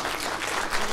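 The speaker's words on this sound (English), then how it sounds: "Let's give her a round of applause." A symposium audience gives a volunteer a round of applause as she comes up to the stage, a continuous wash of many hands clapping, steady and fairly close, with no talking over it.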